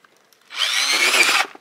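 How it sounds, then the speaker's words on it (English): A power drill bores a drainage hole through the side of a garden container pot, one steady close whine of about a second rising slightly in pitch before cutting off. "You think this will just drill through easily?"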